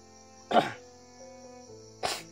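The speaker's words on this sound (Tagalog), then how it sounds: "At sa ngayon, medyo ubo ako" Two short, sharp coughs about a second and a half apart over a steady low electronic hum.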